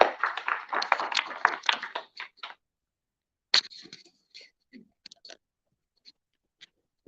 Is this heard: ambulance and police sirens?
no